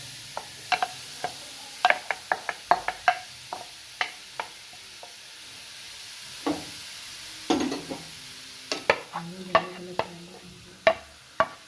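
Grated carrots for gajar halwa are stirred in a pan with milk and sugar, an uneven run of close scraping and clinking spoon strokes over a faint sizzle.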